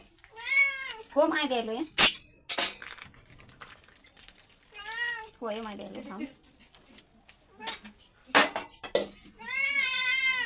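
A cat meows repeatedly for milk, its rising-falling cries coming up close in several bursts between brief clicks, while a person talks to it in between.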